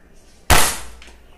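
A single sharp shot from an NX200 beginner air rifle during a grouping test, a loud close crack with a short fading tail, alone in a quiet setting.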